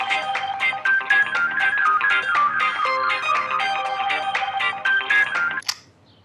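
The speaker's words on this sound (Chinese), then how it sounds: "是电话，是不是？" A telephone rings with a repeating melodic ringtone, loud and close, playing its tune continuously before cutting off abruptly near the end.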